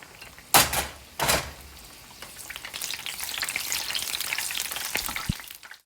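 Battered chillies stuffed with chicken drop into hot oil: two loud clunks, then a rising, dense crackling sizzle that keeps bubbling steadily up close.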